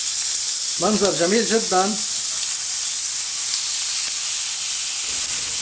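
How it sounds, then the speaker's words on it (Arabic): Chicken pieces sizzling loudly in a hot pan as they are turned over for an Alfredo chicken pizza, giving a constant close hiss, with someone speaking briefly over it near the start. "هلا بدي اقلب الدجاج على الجهة الاخرى"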